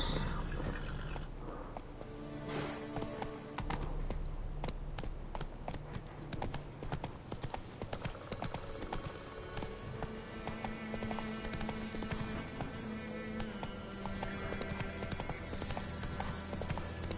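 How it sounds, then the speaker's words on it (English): Horse hooves clip-clop steadily in The Witcher 3 game, a continuous trotting rhythm over layered game music and ambience, with a brief whinny-like sound possible. "My horse."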